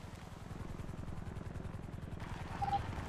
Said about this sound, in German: Oh, warum ist das kein Polizei-Heli?